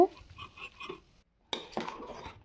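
Khichuri being stirred in a cooking pot, with a utensil scraping and clinking against the metal in a steady burst after a short pause, close by.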